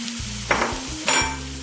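Ginger garlic paste and bitter gourd frying in a pan, a short close burst of sizzling with two sharp stirring scrapes over a low steady hum, and no talk.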